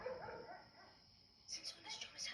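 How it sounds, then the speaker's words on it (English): A dog barks and yips in an audio drama, faint yelps breaking through under louder voices speaking over the scene. "Since when does Jonas have a dog?"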